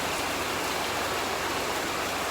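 Rain falls steadily outdoors as a dense, even hiss of drops pattering on surfaces, loud and continuous with no voices.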